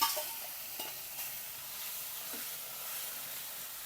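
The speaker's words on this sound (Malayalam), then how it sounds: "വെളിച്ചെണ്ണയിലിട്ടോ വറുത്തെടുക്കുന്നത്" Frying in coconut oil in a pan makes a faint, steady sizzle with a few soft clicks, heard alone and fairly quiet.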